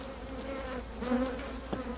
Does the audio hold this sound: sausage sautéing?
no